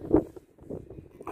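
Outdoors on a windy field while metal detecting, gusts buffet the microphone in uneven low rumbling bursts, loud at first, then dropping and swelling again.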